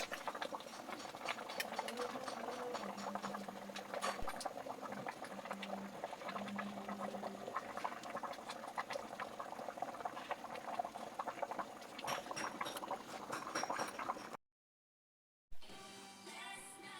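Bulalo beef soup bubbling steadily in a pot, a dense continuous simmering patter that stays loud and even for about fourteen seconds before a brief dropout and a quieter stretch.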